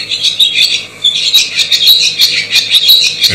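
Young swallows nesting among people in an urban setting call in a dense, steady stream of shrill overlapping chirps and squawks, close and fairly loud, with no voices.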